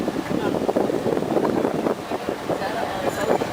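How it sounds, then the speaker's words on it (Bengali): A boat travels slowly across open water in the Maldives, giving a steady, dense wash of engine and water noise buffeted by wind on the microphone and holding level throughout. "আমাদের বোট ধীরে সুস্থে এগিয়ে চলেছে।"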